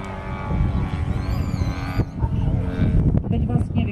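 Model bomber aircraft in flight at a model aviation day in Horní Planá, powered by a new Fiala 580 engine; a steady, loud engine drone with shifting harmonic whine throughout, a brief dip near the middle, with wind noise.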